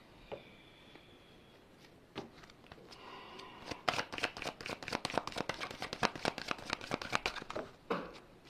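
Tarot cards being shuffled at close range, a dense run of rapid crisp flicks and riffles in quick bursts, with a few isolated card snaps before and a final flutter at the end.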